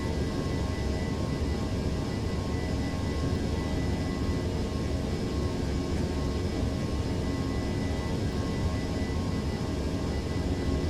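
ToLiss Airbus A321 jet engines roar at takeoff thrust during the runway roll in the X-Plane 11 flight simulator: a loud, steady, unbroken rumble that holds its level throughout, with no voices.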